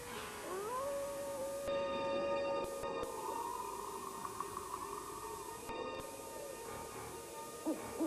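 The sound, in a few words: coyote howling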